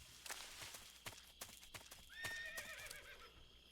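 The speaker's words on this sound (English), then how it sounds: "I heard a horse, though." A horse whinnies with a rising, wavering call among clopping hooves in the jungle setting of the video game Metal Gear Solid 3: Snake Eater, close and clear with no talk over it.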